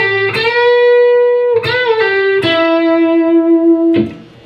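Distorted electric guitar playing the E pentatonic lick: a few sustained, heavily bent notes that rise and release, loud and close, ending with a short final strike that fades out.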